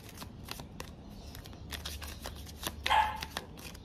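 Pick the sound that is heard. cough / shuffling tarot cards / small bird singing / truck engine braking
shuffling tarot cards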